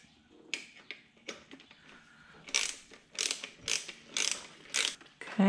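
Bolts on the fuel pressure regulator of a C4 Corvette are tightened with a hand ratchet, giving quiet, close bursts of rapid clicking separated by short pauses.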